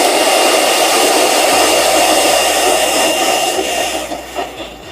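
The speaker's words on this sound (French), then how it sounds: "j'utilise ce sèche-cheveux avec la prise au grid" A hair dryer drawing about 1127 watts, powered by a Zendure Solarflow 2400 Pro battery system: a loud, steady, close whooshing blow with a low motor hum that wavers slightly toward the end.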